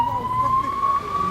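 An ambulance siren sounds at a missile impact site in Tel Aviv, a steady rising wail held loud and close throughout the brief moment.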